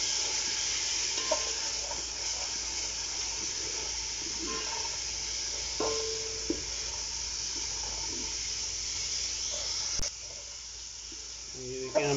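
Salt, red chili and turmeric sizzling in hot oil in a pan while being stirred for about a minute, a steady soft hiss with light scraping, and a voice speaking now and then.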